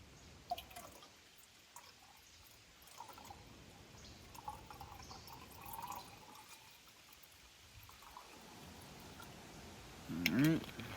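Freshly filtered water trickles and drips into a pot at low volume, with soft intermittent splashes and a short louder burst near the end.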